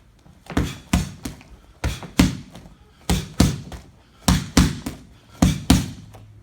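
Kickboxing jab and cross punches landing on pads, close and loud: paired thudding smacks come in quick one-two rhythm, about a dozen impacts with short pauses between combinations, and no talk over them.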